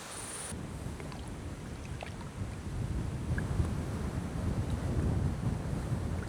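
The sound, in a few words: wind blowing over a lake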